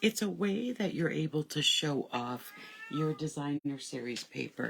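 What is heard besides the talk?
cat meowing in the background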